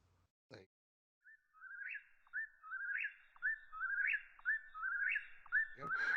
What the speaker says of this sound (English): I'm going to put the sound effect of that bird on